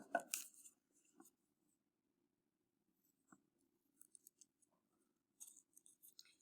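Scissors snip paper in a few quiet bursts, an early cut, a single click, then a quick series of short snips near the end.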